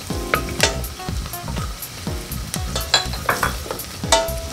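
Carrots tumble into caramelized onions frying for a vegan biryani, giving repeated stirring scrapes and clatters over a steady close sizzle, with no talking.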